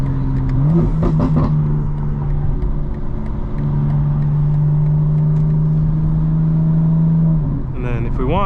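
A 900-horsepower 2025 BMW M4 Competition xDrive accelerates at night, its engine droning loudly as revs climb and hold through gear changes, heard from inside the car, with a voice speaking over it near the end.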